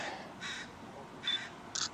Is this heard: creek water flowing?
no